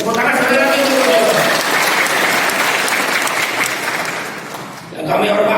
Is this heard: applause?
yes